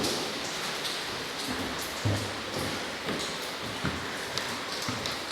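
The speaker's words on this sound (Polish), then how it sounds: "W ogóle tak leje, że już nigdy tak nie, nigdy tak nie lało" Heavy rain pours down during an evening storm as a steady, dense hiss with scattered close taps and drips on surfaces.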